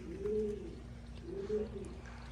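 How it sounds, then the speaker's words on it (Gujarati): Pigeons coo from inside a village well on farmland, two soft, low, rolling coos heard close by over a steady background hum. "કબૂતર ભાઈ છે ને કવામાં જ રહી."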